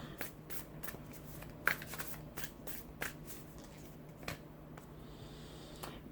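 Tarot cards being shuffled by hand in quiet, soft papery riffles and taps spread across a few seconds, with a couple of sharper slaps, close and fairly faint with no talking.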